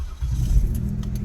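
A 1988 Buick Reatta engine cranks and catches, settling into a steady low rumble close by, with no talking.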